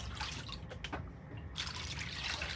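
Water from a snuffer bottle emptied into a gold pan of water with jet dry, giving a steady close trickle and splash that briefly thins near the middle before running on strongly.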